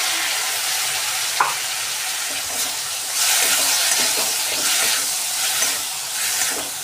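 Fine green chili paste frying in a pan for paneer 65, a loud, steady close sizzle and hiss with occasional stirring scrapes.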